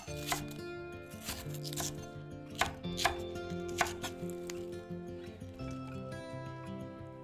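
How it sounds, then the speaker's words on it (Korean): Knife chopping green onion into bite-size lengths on a cutting board while making stir-fried sundae, with a handful of sharp, irregular taps standing out over steady kitchen background and music. "대파는 손가락 길이 정도로 썰어준 다음 먹기 좋은 크기로 잘라주세요."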